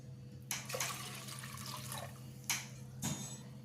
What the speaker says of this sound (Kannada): ಬೇಳೆ ಬೇಯಲಿಕ್ಕೆ ಎಷ್ಟು ಬೇಕು ನೀರು ಅಷ್ಟು ನೀರನ್ನ ಹಾಕ್ಕೊಂಡ್ರೆ ಸಾಕು